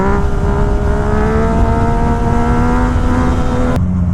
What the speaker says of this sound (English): Let's just get one wheelie in here to set the tone on what we're expecting for the day.